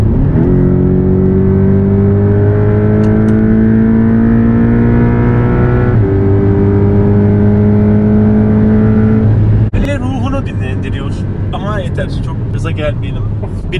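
Porsche 718 Cayman exhaust, a loud continuous engine drone with steady harmonic tones through most of the clip, then a sharper rev burst near the end.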